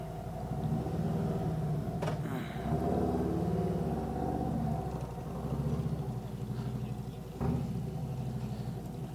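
A car cruises along the road on a drive home in Little Rock, Arkansas, its engine a low steady rumble with a few bumps and rattles, and no talking.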